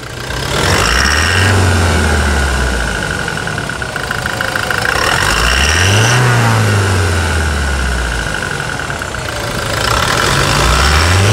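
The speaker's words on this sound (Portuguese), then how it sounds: "Vai, China, de novo, acelera." A loud 2021 Toyota Hilux single-cab pickup engine rumbles close by and revs up in three rising and falling surges, settling back toward idle between them.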